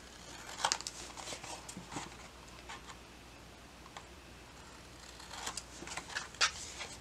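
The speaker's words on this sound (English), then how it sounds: "I'm just going to cut and leave a little bit of space like that" Scissors cut paper for a flipbook, a run of quiet, close snips and crisp slicing clicks, with bursts of cutting near the start and again near the end, no speech.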